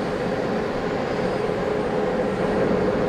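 Airliner jet engines running quietly while the plane taxis: a steady, even broadband hum with a faint constant whine and no voices.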